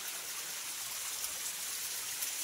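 Water rushing down a stream on a walking path to the Bharunda Devi shrine, a steady broadband wash that stays even and close throughout, with no voices.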